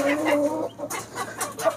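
Domestic country chickens clucking close by on a small farm, a few short overlapping clucks and calls in a brief burst.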